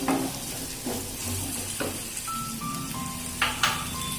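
Chopped capsicum and onion fry in a pan for capsicum rice, a dense continuous close sizzle with a few soft stirring knocks, no voices.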